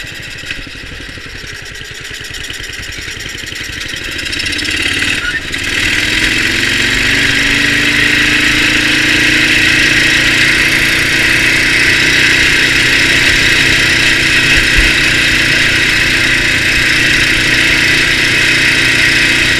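A racing lawn tractor's engine runs, first at a lower idle, then revving up after a clunk to a loud, steady whining drone that holds constant up close.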